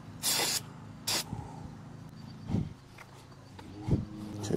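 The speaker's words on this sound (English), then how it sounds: "This is the gum out carb choke cleaner and parts cleaner. Let's give it a quick little spray here." Gumout carb choke and parts cleaner sprays from an aerosol can in two short hissing bursts on a pressure washer carburetor, followed by faint handling clatter and small knocks nearby.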